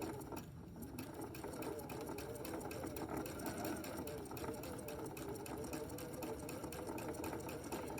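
A sewing machine sews pintucks with a twin needle in one steady, continuous hum with a fast needle rhythm. A voice talks quietly underneath.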